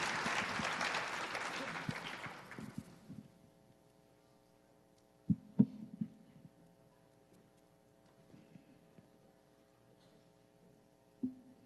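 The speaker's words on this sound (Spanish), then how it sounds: "Tania, por favor, un aplauso para Carlos Iván." An audience at a plenary conference session applauds a speaker: a dense wash of clapping that dies away after about three seconds, followed by a quiet room with a few scattered knocks.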